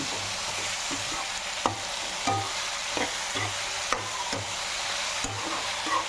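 Soya chunks fry in a pan while a spoon stirs them, giving a steady soft sizzle broken by repeated scraping strokes and occasional light knocks against the pan, close and without talk.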